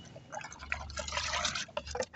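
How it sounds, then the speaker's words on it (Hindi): Granular fertilizer stirred into about 2 to 3 litres of water in a container for a young rose plant mix, giving soft liquid sloshing and dripping with a low swirling rumble, close up and fairly quiet, with no talking. "ये पानी है इसमें मैं घोल दूँगा अच्छे से"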